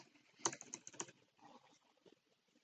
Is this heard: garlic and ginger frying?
no